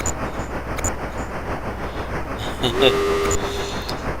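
A train in the 1982 Konami arcade game Loco-Motion, heard as steady electronic game noise with a brief rising tone and a sustained beep near the end.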